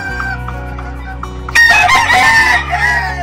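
A Blueface Hatch gamefowl rooster crows once loudly and close by, its call rising sharply partway through over a steady low hum.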